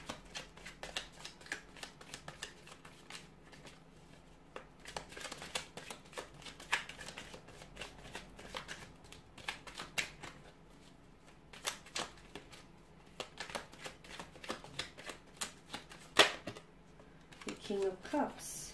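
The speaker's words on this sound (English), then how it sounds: "we'll give the cards a shuffle here" Tarot cards are riffled and shuffled in repeated crisp bursts, with soft flicks and taps between them and a quiet voice speaking now and then.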